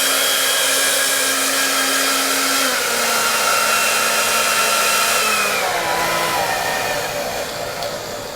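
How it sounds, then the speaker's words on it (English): A hair dryer blows steadily and loudly throughout, its motor whine dipping slightly in pitch partway through as it begins to falter while drying a hairsprayed stocking cap. "My hairdryer is smoking."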